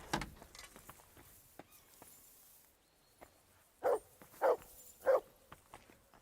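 Three loud, evenly spaced barks from a dog in a video game ring out one after another, following a quiet stretch of soft thumps and rustling.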